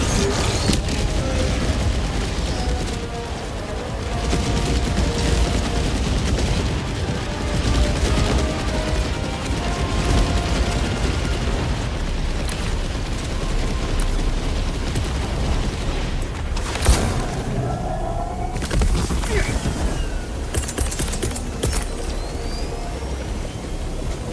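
Orbital barrage explosions in the video game Helldivers 2 rumble as a dense, continuous wall of booms and blasts. The bombardment stays loud and sustained with no pause.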